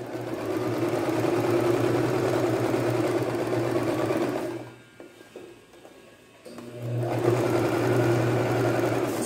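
A sewing machine runs a steady, fast stitching drone while sewing a weighted seam around a blouse neckline, pausing briefly near the middle before starting up again, close and loud with no talking.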